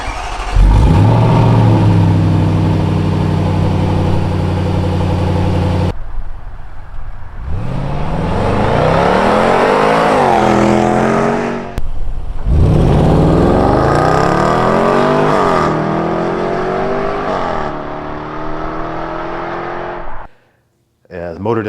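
A 2019 Range Rover Sport Supercharged Dynamic with a 518-horsepower 5-liter supercharged V8 idles loudly, then revs hard in repeated rising and falling sweeps with a sharp cutoff between pulls.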